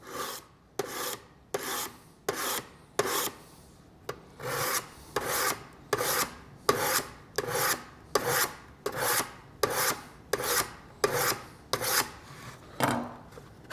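A kitchen knife is pushed hard across a whetstone in quick, even strokes, about a dozen and a half rasping scrapes in a steady rhythm, each one close and loud with short gaps between, and no voices.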